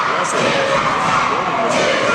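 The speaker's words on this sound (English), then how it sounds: "Crowd's coming back into it." Wrestling crowd in an arena, a steady loud roar of cheering throughout, with commentary voices over it.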